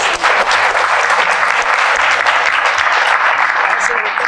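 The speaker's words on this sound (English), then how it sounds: "A round of applause." Loud, sustained applause from an audience congratulating graduates at a university graduation reception, dense clapping close by that continues unbroken for several seconds.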